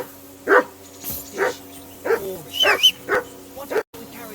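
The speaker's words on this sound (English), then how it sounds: "Say something to that dog." A dog in the medieval video game Kingdom Come: Deliverance II barks loudly and repeatedly in short, evenly spaced woofs with a whimper, while a voice talks alongside.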